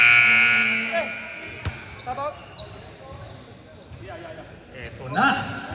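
A loud basketball game horn buzzer blares for about a second at a Samaritan Saints vs Ten Apostles game, then cuts off into crowd noise and live commentary.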